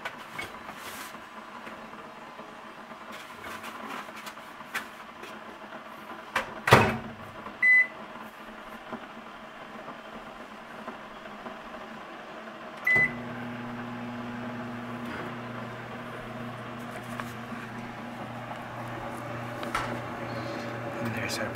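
A microwave oven hums steadily while heating pizza, with a door thump and beeps partway through, then a deeper running drone; voices speak in the background.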